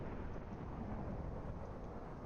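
A thunderstorm in a video game rumbles with a steady low roll of thunder over rain, continuous and moderately loud with no voices.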